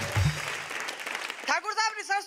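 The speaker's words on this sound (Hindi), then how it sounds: "बात समझ में आई हो तो एक बार जोरदार ताली बजा के बताओ" A live audience at a Hindi-language stage performance bursts into a short round of loud clapping, which fades as a voice takes over and talks.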